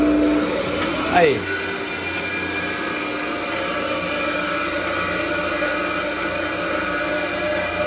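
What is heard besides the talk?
Multilith 1250 offset printing press starting up and running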